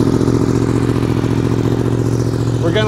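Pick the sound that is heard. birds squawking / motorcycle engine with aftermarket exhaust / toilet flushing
motorcycle engine with aftermarket exhaust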